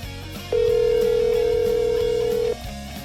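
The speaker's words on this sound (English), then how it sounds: "It's ringing." A mobile phone call ringing through, a single steady ring tone lasting about two seconds, loud and close, with faint background music underneath.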